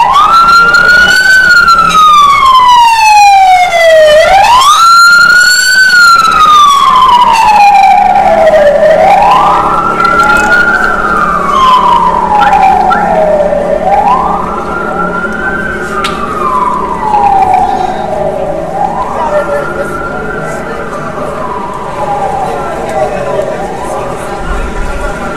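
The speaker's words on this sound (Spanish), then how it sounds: "Vemos pasar una ambulancia." A loud wailing ambulance siren sweeps up and down repeatedly as it passes close by on a Quito street during a transport strike, then fades slightly with distance.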